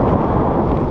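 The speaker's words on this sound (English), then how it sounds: "Little gust." A gust of wind buffets the microphone while parasailing high above the water off Catalina Island, a steady, loud, broadband rush lasting about a second with no talk over it.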